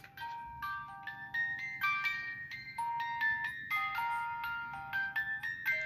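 A Rokr robot music box plays a song, its bright plucked metal comb notes ringing close and clear in a steady, sustained melody over a faint mechanical whir.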